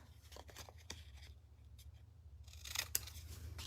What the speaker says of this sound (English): Make sure you use a big pair of scissors.